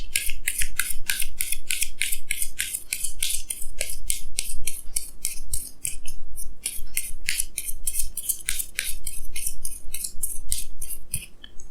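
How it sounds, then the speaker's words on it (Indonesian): Tarot cards are shuffled and drawn in a rapid run of crisp, papery riffles and snaps, close and fairly loud, repeating steadily throughout with no talking. "Jadi sini saya akan tarik lagi 2 kartu tambahan ya."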